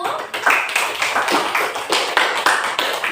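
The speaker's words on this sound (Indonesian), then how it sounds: "berikan aplaus dulu untuk kelompok 1" Students applaud a presenting group in a classroom during a teacher-training performance exam, with brisk clapping in uneven surges that stays loud and close for the whole stretch.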